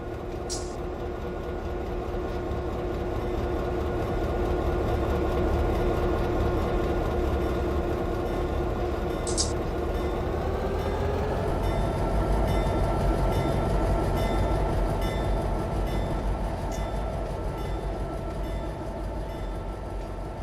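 A locomotive runs in the Run 8 train simulator during ATSF Malabar Yard work, with a steady heavy engine drone and rolling rail noise throughout, a tone shift midway and two brief sharp clicks.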